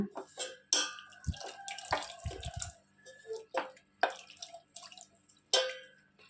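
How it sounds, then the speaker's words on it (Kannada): Half a glass of water goes into custard powder for mixing, heard as close uneven splashes and trickles with drips and a few light knocks of a glass or spoon between them. "ಇದರಲ್ಲಿ ಅರ್ಧ ಗ್ಲಾಸ್ ನೀರು ಹಾಕಿದ್ದೀನಿ ಕಲಸೋಕ್ಕೆ"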